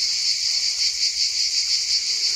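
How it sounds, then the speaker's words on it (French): A southern French cicada sings in a loud, continuous, buzzing drone close by, steady and unbroken with slight pulsing, and no other sounds intrude. "Voilà la cigale du sud de la France."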